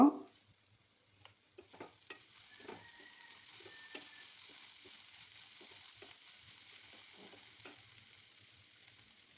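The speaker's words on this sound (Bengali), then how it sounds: "এখন নেড়ে চেড়ে কিছুক্ষণ রান্না করব" Food frying with lemon juice in a pan, steady soft sizzle with scattered scraping and stirring clicks from a utensil, close by and alone.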